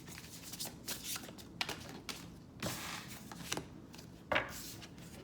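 Oracle cards are shuffled by hand up close, a soft, continuous riffling and sliding with a few sharper flicks, quiet and unaccompanied by talk.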